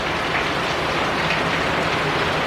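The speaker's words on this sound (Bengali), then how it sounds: "প্রচুর পরিমাণে বৃষ্টি হচ্ছে।" Heavy rain pouring down on a city street at night, a close, loud and unbroken wash of drops hitting surfaces with no voices over it.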